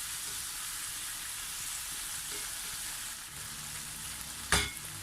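Pork adobo sizzles steadily in a pan as it is stirred, with a brief loud clatter of the utensil near the end.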